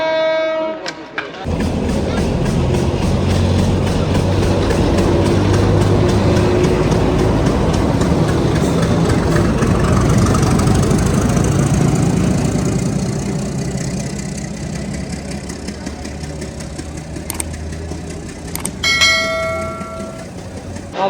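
A passenger train bound for Bogura, Bangladesh, rumbles loudly and steadily throughout, with bell-like ringing tones and clanks rising near the end.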